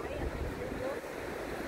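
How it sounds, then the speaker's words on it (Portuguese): Sea waves crashing on a beach at Carneiros, Brazil, a steady rushing roar with heavy wind buffeting the microphone. "Olha o mar batendo ali"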